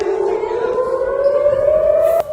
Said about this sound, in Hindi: सायरन बज रहा है।